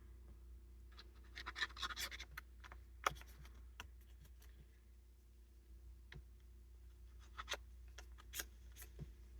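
Scissors trim the edges of a paper envelope in a quiet room, giving scattered faint snips and paper scratches with short sharp clicks at irregular intervals.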